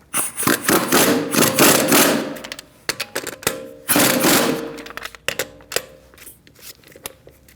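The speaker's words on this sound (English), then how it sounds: "Now we're going to snug them up. We're going to do that in a star-like pattern using a 17mm socket." Power tool snugging the wheel lug nuts with a 17mm socket on a 2008-2014 Mercedes-Benz C300, loud rattling bursts repeated in a star pattern, close up.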